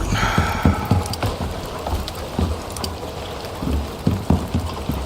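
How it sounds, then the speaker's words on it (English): Rain storm in a video game world with wild horses, wolves, bears and boars, heard as a steady wash of rain with scattered low thumps and drops, moderately loud and with no talk. "And of course there's a storm."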